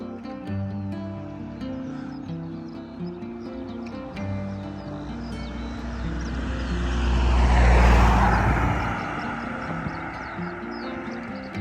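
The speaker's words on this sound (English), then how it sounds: "2 cars came in opposite directions and some bikes all at the same time" Cars pass in opposite directions on a quiet country lane near a farm early on a Sunday morning, a low engine and tyre rumble swelling to a loud peak as they go by close, then fading, with light background noise throughout.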